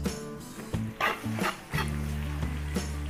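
Onions going into a large pot of hot oil with garlic for a bulk 10-kilo Filipino cook, a steady frying sizzle broken by loud clanks and stirring scrapes, close by.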